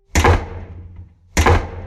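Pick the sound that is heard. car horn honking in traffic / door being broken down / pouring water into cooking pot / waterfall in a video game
door being broken down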